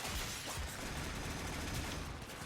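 Sustained rapid gunfire from the video game Warframe rattles on without pause, a dense, muffled barrage at low volume.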